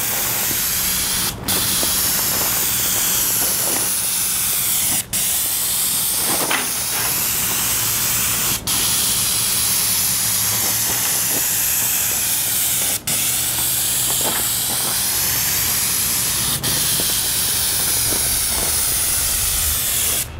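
An airless paint sprayer sprays house paint, a loud, continuous close hiss that runs steadily throughout, broken by a few short clicks at regular intervals.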